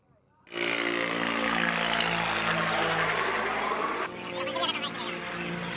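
A helicopter flies at Kedarnath in the mountains, its loud steady engine and rotor drone starting abruptly and holding close, with a voice speaking briefly near the end.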